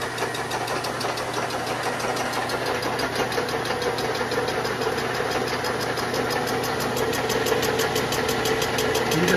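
A milling machine spins a 14-inch PCD surfacing flycutter across aluminum, giving a steady, loud machine drone with a fast repeating rhythmic pulse throughout, running alone without talk.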